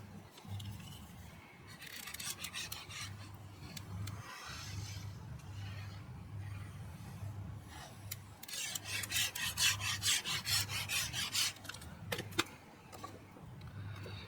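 Paper piece burnished onto a Stamperia New England wedding album, giving soft repeated rubbing and scraping strokes, quiet and close, with a quicker rasping run near the end.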